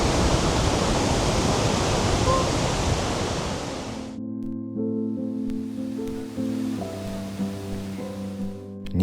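Iguazu waterfalls in Brazil roar as a loud, dense broadband wash that suddenly cuts off after about four seconds, leaving a quieter tonal background.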